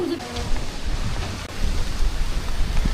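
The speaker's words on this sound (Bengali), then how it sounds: "বৃষ্টি" Rain pours during a Kalbaishakhi storm, a close, steady wash of noise with low rumbling gusts, while a person speaks briefly over it.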